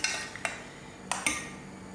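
A spoon stirs cornstarch gravy in a pan, making a few sharp scraping clinks against the metal over a soft, steady background.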